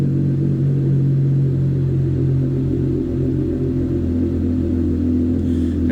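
A 2020 Jeep Gladiator's 3.6-liter Magnuson supercharged V6 with Borla cat-back exhaust idles loud and close, a deep steady rumble with a slight swell in revs and no talking.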